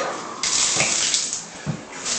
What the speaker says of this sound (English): turn it on, you see we got a good shower